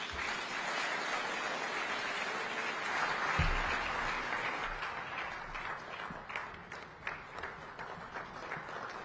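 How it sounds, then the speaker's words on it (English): Audience applause at a regional heads-of-state summit, a loud sustained ovation from a large crowd that peaks early and then breaks into thinning individual claps. "another round of applause for the incoming SADC Chairman, Dr. Emmerson Dambudzo Mnangagwa"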